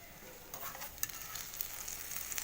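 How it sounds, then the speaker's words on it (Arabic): Mhajeb, Algerian stuffed flatbreads, fry in oil in a pan with a soft, crackly sizzle and occasional sharper pops, quiet and close with no voices. "نخليهم هكذا يتقلاو يطيبوا"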